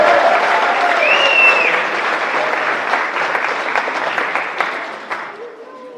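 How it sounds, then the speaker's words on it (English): A crowd gives a standing ovation to the organizing team at a startup event. Loud, dense clapping starts at full strength, carries on steadily with a few whoops, then thins and fades near the end. "Let's do a quick standing ovation for the organizing team"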